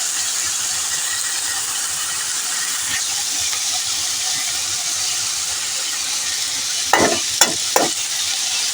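Potatoes are stirred in a frying pan with ginger over a steady sizzling hiss, with a few short scraping strokes of the spoon near the end.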